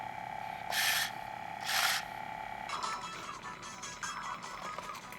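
The lens of a PSP console is cleaned, giving two short close rubbing swipes followed by quieter scratchy wiping and faint clicks.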